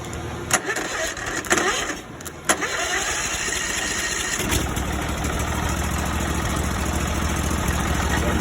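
Duck boat engine being jump-started from the solenoid after a repair to its negative cable: a few short cranking bursts, then it catches at about 4.5 seconds and settles into a steady, loud idle close by.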